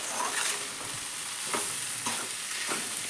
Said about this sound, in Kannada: ಬೇಳೆಗೆಲ್ಲ ಒಗ್ಗರಣೆ ಕೊಟ್ಟು ಈ ಸಬ್ಬಸಿಗೆ ಹಾಕಿ ತಿರ್ವಾಕತ್ತಾರ ನೋಡ್ರಿ